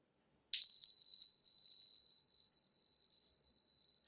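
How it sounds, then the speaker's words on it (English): A crystal tuning fork is struck once and rings with a single pure, steady high tone that sustains cleanly and evenly, heard up close with no voices. "crystal tuning fork to clean up the energy around"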